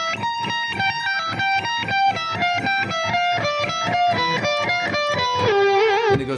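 A distorted electric guitar plays a rapid, even stream of picked notes in a three-note symmetrical lick. The run climbs steadily and ends on a held, vibrato-tinged note. There is no talking.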